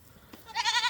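Goats bleat near a farm gate on a homestead, a short wavering cry rising after a faint thump and holding steady to the end, fairly close and unaccompanied by talk.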